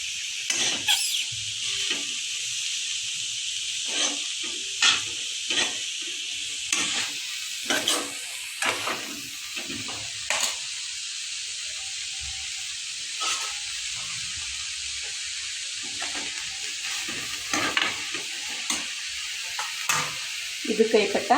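Chopped radish leaves and radish pieces frying in a pan for radish leaf palya, with a steady sizzle and hiss throughout and regular scraping strokes of a spoon stirring, close up, with no talk.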